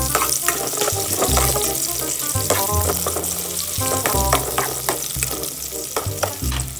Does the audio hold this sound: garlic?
yes